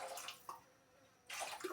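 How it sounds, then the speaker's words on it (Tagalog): Water pours into a pot for noodle soup broth, a burst of splashing at the start, a brief splash midway, then a renewed louder gush of pouring toward the end, close and alone. "Lagay na tayo ng tubig pang sabaw."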